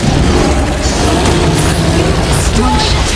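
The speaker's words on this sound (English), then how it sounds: "Your team destroy the turret!" A turret being destroyed in the Mobile Legends video game, a dense, loud wash of crashing, booming impacts and mechanical clatter amid busy battle effects, continuous for a few seconds.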